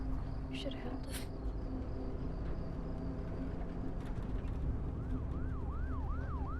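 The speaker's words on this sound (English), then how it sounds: "That's a lot of ambulances." Ambulance sirens in the video game The Last of Us wail in repeating rising sweeps that emerge in the last second or two, over a dense, steady rumble of traffic and background noise.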